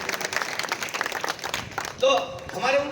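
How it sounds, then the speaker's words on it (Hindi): Audience applause at an all-India poetry gathering held for a Ganesh festival, dense clapping running throughout beneath a voice that keeps talking over it. "एक बार जोरदार तालियां पूरा सदन भाई मनोज गुज्जर के लिए"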